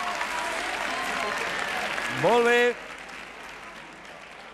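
On a quiz show, a studio audience claps steadily throughout while a voice briefly speaks over the applause.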